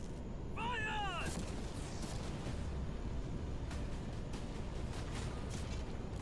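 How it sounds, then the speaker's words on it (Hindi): A hundred cannons fire at a yacht in a video game, producing a dense, continuous barrage of booming blasts that starts with a brief sweeping tone and then keeps thundering steadily throughout. "अब हम तुम्हारी नई यॉट पर कैनन्स को शूट करने वाले हैं"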